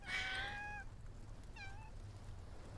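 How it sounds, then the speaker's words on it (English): Orange cat meowing in the video game Love and Deepspace, two clear meows, the first longer and louder, the second softer, with no talking. "So cute. Give me this cat."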